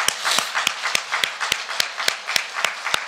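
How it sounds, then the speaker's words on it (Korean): An audience at a church gathering claps in steady rhythm, evenly spaced sharp beats over a bed of scattered applause, close and fairly loud, with no speech. "이분들에게 뜨거운 박수를 한번 네,"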